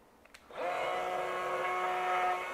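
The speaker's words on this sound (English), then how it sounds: "Now let me turn on the RYOBI." A RYOBI PBLRT01 HP 18V cordless rotary tool switches on after a couple of faint clicks, then spins up to 25,000 RPM with a steady high-pitched whine held near and constant.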